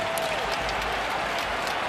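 A hockey arena crowd applauds after a one-sided fight, a steady wash of clapping heard moderately loud across the short stretch.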